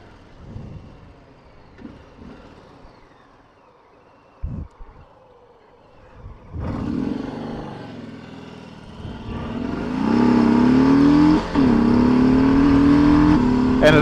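A 2021 Harley-Davidson Sport Glide motorcycle, heard first at a low idle with a few short blips, then throttling up into a loud, rising engine roar that climbs in pitch through the final seconds.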